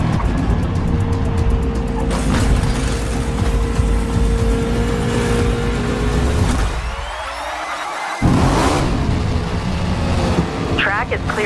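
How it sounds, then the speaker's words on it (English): Race car engine in Forza Motorsport during a pit stop for fresh tires: a loud, continuous engine roar that dips briefly then surges back, with a voice talking over it. "Just one last pit stop for fresh tires"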